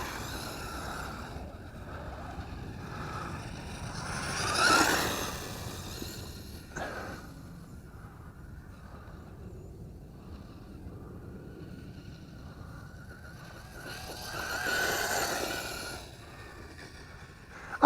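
A ZD Racing brushless 1:10 scale 4WD RC car drives outdoors, its electric whine swelling twice as it speeds past and fading between passes, with background noise.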